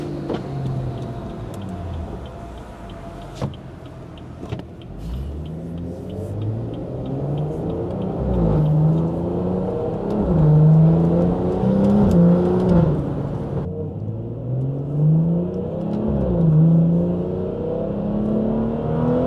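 Car with a stage 2 tuned B58 engine driving along, low exhaust drone rising and falling with throttle, scattered pops and burbles in the background, no talk.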